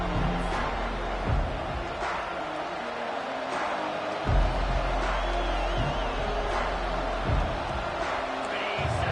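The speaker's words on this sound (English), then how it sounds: "This crowd bringing an ear-splitting welcome to their visitors." A stadium crowd in a Madden football video game sends up a broad, steady roar with a few swelling bursts, heard at moderate loudness throughout.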